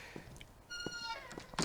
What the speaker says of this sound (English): chasing a cat